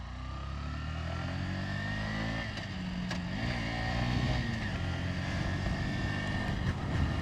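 A Honda Shine 100 OBD 2B motorcycle engine drones steadily as the bike rides, with its pitch rising and falling through gear changes and the engine growing slightly louder toward the end.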